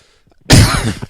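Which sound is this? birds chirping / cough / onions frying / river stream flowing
cough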